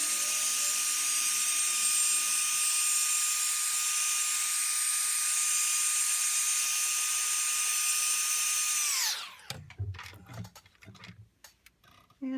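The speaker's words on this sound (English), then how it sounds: "you can dry it with your heat gun" A heat gun blows to dry rubber cement on a card, a steady high-pitched whine with hiss that runs unbroken and then cuts off, leaving faint handling noises.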